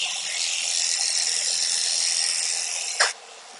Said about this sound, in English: I usually start by shaving the back legs and then move my way up towards the front